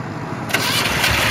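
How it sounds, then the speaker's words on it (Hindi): A homemade diesel motorcycle engine turns over and catches halfway through, rising from a low hum into a loud, rough running clatter close by. "देखिए इशारों से गाड़ी स्टार्ट हो रही है"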